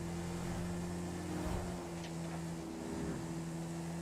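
A struggling vehicle engine in Grand Theft Auto V drones in a low, steady hum with a brief rough surge and pitch wobble midway, moderately quiet and continuous.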